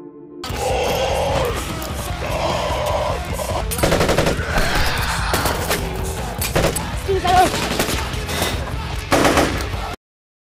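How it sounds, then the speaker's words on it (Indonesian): Bursts of automatic gunfire crackle through a tense zombie film scene, rapid volleys layered with crashes and busy action noise, loud and continuous from start to end with sharp spikes near the middle and close. "Asap dari helikopter yang jatuh dan suara tembakan terdengar oleh kelompok Murdo"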